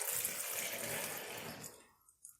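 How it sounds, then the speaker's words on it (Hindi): Cold full-fat milk pours into a glass for a banana and date milkshake, a steady close liquid gush that tapers off and ends with a few soft drips. "अब हम इसमें 1 गिलास फुल फैट दूध लेंगे।"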